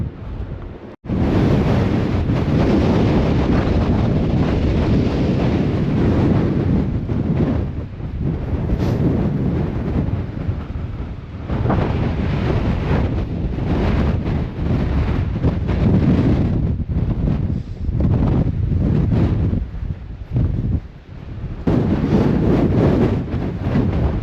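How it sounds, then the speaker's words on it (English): Strong wind on a mountain summit buffets the microphone in a loud, continuous roar, gusting and dipping for over twenty seconds with no voices. "It's way too windy where I am right now."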